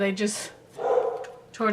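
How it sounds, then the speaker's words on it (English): A pet dog barks at neighborhood cats outside the front door, giving a couple of sharp barks near the start and again at the end, with someone speaking in between. "Sorry about that. That's my dog"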